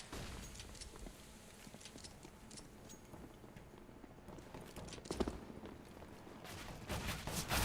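Pistol gunfire in CS:GO during a competitive esports match on Dust2: scattered sharp shots and clattering footsteps over busy game ambience, with the loudest bursts coming near the end.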